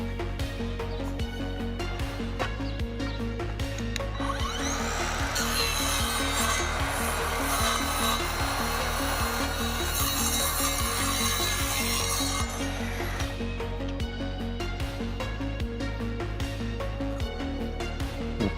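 An Evolution R185SMS-Li cordless radial mitre saw makes a 45-degree cut through wood, a loud rasping grind lasting about eight seconds in the middle, over steady background music.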